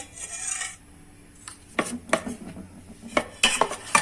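A utensil scrapes and clinks against a bowl while rava dhokla batter with saji na phool is beaten, starting with a short rasping burst and then giving way to irregular close knocks and scrapes, with no talking.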